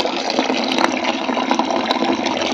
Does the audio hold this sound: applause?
no